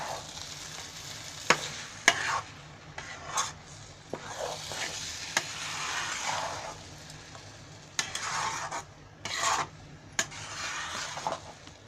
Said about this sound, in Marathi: आता मी त्याच्यामध्ये ही वेलची पावडर साखरेतून बारीक केलेली आहे ते मी अशी टाकते आणि शिरा हलवते